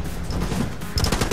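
Rifle gunfire in a video game, a rapid string of loud close shots in quick succession, with a sharper burst near the end.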